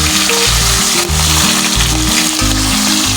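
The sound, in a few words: fish head and tail frying in oil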